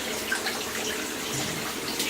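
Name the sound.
homemade banana beer running through into the fermenter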